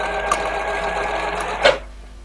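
A sewing machine stitches a cloth face mask, a steady close whirring hum that runs continuously, then briefly speeds up and stops.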